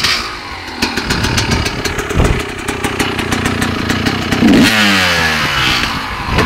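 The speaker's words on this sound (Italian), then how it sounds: "La mia moto." CZ motocross motorcycle engine running loud and close, idling with a rapid clattering rhythm and then revving up near the end, with no voices.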